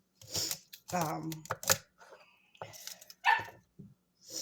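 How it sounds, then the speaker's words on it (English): A puppy whines and squeaks nearby in short, high-pitched bursts, broken by brief pauses and soft scuffling. "So if you hear any little whinings and squeakings and stuff like that, Thor is perfectly okay."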